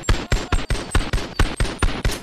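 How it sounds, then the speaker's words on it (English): A .50 caliber gun in the VR game Bonelab fires nine heavy, booming shots at a steady, rapid rhythm, each one loud and close with a short decaying tail, and no talking. "This is a 50 cal gun."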